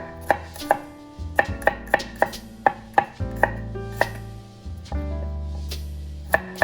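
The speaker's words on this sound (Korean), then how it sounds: "마늘은 편을 쓸어서 하는 게 조금 다 괜찮을 것 같아요" A knife slices garlic on a cutting board, a dozen or so crisp chops at a steady pace under faint background noise.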